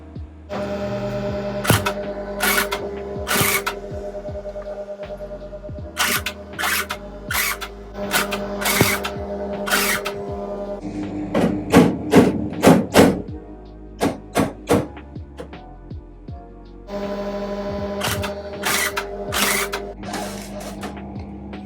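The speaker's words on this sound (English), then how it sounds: "So I'm going to get the welder out." MIG welder tacking a rear wheel arch repair on a Mk1 VW Golf, loud sputtering crackle in repeated bursts of a second or two, separated by short pauses, with steady hum between runs.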